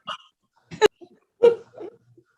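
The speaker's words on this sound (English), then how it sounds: "mute that dog, please." A dog yips and barks a few times over a meeting call, short, sharp sounds with gaps between them, fairly faint and a little distant.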